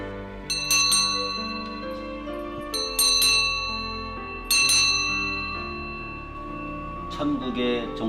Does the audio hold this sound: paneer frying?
no